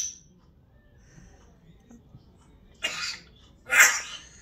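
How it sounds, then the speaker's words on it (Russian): A child coughs twice in quick succession near the end, two short harsh bursts after a mostly quiet stretch with faint background murmur. "кашляешь"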